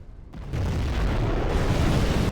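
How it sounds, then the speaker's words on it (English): A nuclear missile detonates in a China-versus-China real-time strategy match on the Snowy Drought map, a sudden loud, deep roaring blast that holds as a sustained rumbling wash. "A nuclear missile has been launched."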